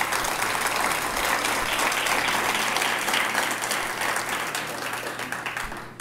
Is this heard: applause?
yes